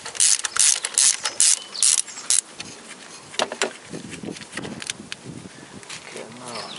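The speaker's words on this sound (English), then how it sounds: "I need this 10 millimeter socket, and it fits in just in here. It is in there. And then I open that bolt." A ratchet with a 10 mm socket loosens a bolt on a Toyota Corolla VVT-i engine, producing quick bursts of sharp, close clicking with a few slower, separate clicks in between.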